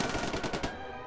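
Machine gun fire in a World War II battle against German troops, a rapid burst of about eight close, loud shots ending abruptly.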